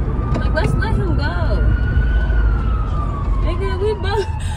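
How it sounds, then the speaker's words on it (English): A wailing siren sweeps steadily in pitch over heavy traffic rumble, fairly close and loud, with a voice talking briefly underneath. "I hear sirens"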